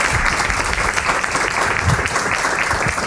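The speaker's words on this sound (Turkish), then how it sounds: "Evet, alkış." A studio audience at a comedy show claps for an arriving guest, a short dense burst of applause that stays even and close throughout.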